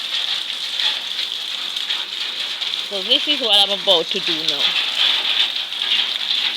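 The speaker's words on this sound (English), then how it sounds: "The rain finally came." Rain falls steadily with a constant hiss and patter after a dry spell, continuing throughout while someone speaks briefly partway through.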